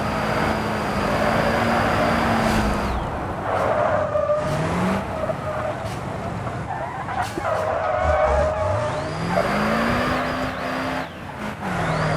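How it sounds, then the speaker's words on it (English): A car drifting in a racing video game, with a loud engine rising and falling through gear changes while tires squeal and skid in long sustained slides, close and continuous. "that's a pretty good drift there"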